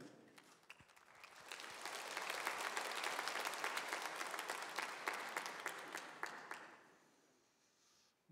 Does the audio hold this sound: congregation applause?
yes